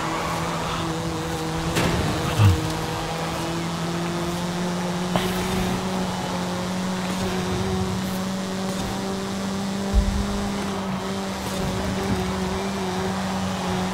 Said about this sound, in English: I can hear the Honda.